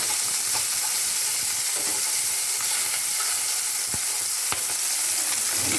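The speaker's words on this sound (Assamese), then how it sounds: "মিঠাতেলখিনি গৰম হ'লে মাছকেইটা লুটিয়াই দিবলৈ ভাল" Fish fries in hot mustard oil with a constant, dense crackling sizzle, broken by a few sharp taps from utensils against the pan.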